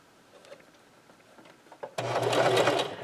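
A sewing machine stitches a back stitch on a thermal camo shirt. Faint handling clicks come first, then the motor starts abruptly and runs loud and steady at close range for the final second.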